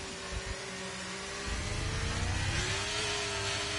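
Ferrari race car engines in a racing video game at an Australian circuit, a steady high mechanical whine with low rumbling bursts that grow denser and louder in the second half as a car presses close behind.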